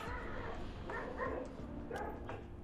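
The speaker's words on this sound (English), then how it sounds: "Those were our stray dogs and a car that just went away." Stray dogs barking and yipping in short bursts at a moderate distance over a constant low background rumble.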